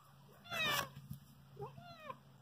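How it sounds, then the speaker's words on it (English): An old cat, about 22 years old, gives a loud meow up close, then two softer, shorter mews, over a low steady hum. "Featuring Pearl, the probably 22-year-old cat."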